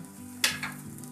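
Paratha frying in oil on a pan, a steady close sizzle with a sharp burst of crackle as it is pressed, then a smaller flare before settling back to a soft, even hiss.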